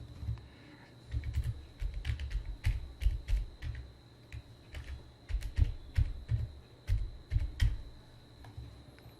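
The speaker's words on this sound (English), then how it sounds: "So let me type my email address." An email address being typed on a computer keyboard: quick bursts of close, crisp key clicks with short pauses between groups, fairly quiet against a faint steady hum, no voices.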